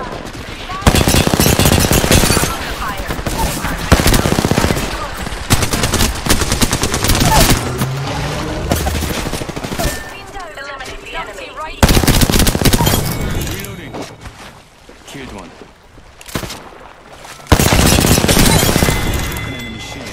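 Heavy automatic gunfire rattles in loud repeated bursts during a video game battle, with short gaps between volleys and a voice talking intermittently.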